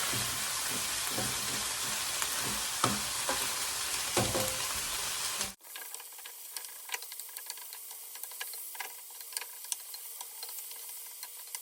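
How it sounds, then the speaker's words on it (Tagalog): Lean meat hitting a hot pan with garlic, a loud steady sizzle that drops to a quieter crackling fry after about five seconds, with scattered ticks and pops. "Now we are going to add our lean meat."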